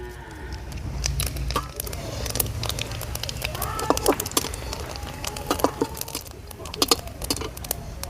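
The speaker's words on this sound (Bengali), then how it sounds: "আমি দিয়ে দিচ্ছি ফোড়নে কিছুটা গোটা জিরে" Whole cumin seeds sizzle and crackle in hot oil for tempering, with scattered sharp pops and spits over a frying hiss, close and moderately loud, and faint background sounds.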